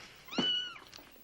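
A single close, clear meow from a kitty, short and rising then falling, over a quiet background with no talk.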